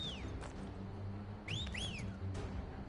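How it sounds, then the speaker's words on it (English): A character in the Final Fantasy XVI demo whistles: a short descending whistle, then a pair of rising and falling swooping whistles a moment later, fairly faint over low game ambience. "Oh, he's whistling, I think."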